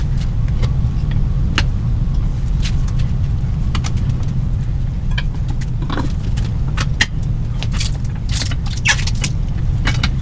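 A Katool KT-B760 tire balancer spins a wheel with its tire off, giving a steady loud mechanical whir and hum throughout, with scattered faint clicks and ticks over it.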